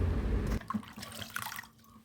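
Water swishes and splashes briefly in a bowl as clam meat is rinsed by hand, then drips and trickles off, close and fairly quiet.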